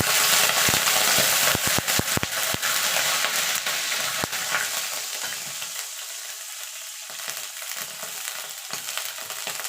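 Nigella seeds and ground spices sizzling in hot oil in a pan for a Bengali hilsa fish curry with mustard, with a loud steady hiss, a few sharp pops early on, then the sizzle softening as it settles.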